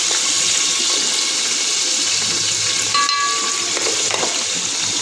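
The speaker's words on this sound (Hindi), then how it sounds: "दो टेबल स्पून अदरक और 2 टेबल स्पून लहसुन डालने के बाद भी हम इसको अच्छी तरह भूनेंगे।" Ginger and garlic fry in a pan for beef qorma, a loud, dense, continuous sizzle with occasional spattering and brief clinks, close up and steady throughout, with no talking.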